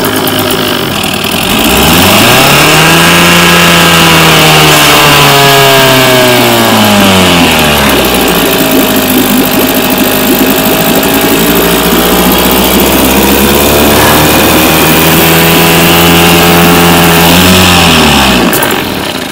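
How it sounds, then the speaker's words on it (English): A 1967 Evinrude outboard motor on choke starts and runs loud and close, its engine note rising, dipping and swelling again as the throttle changes, with a rough, buzzing tone throughout. "I'm gonna give her throttle, choke it, and give her a start"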